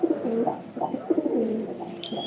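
A female pigeon coos in a series of soft, repeated throaty phrases, close by, with a faint thin tone at the end and no talk over it.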